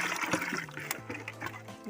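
Rice water mixed with wood ash is stirred in a container as a fertiliser for green chilli plants, giving a quiet, continuous sloshing and swirling with small splashes and a low hum underneath.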